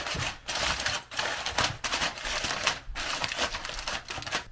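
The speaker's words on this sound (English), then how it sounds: "Then I seal it with another piece of foil." Aluminium foil crinkles and rustles in repeated bursts as a sheet is pressed over a dish to seal it, close and fairly loud, with brief pauses between handlings.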